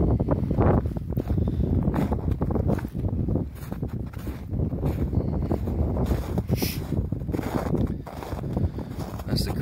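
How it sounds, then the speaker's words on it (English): Strong wind buffets the microphone in a constant loud roar, with gusty rumbling and occasional thumps throughout. "It's very windy."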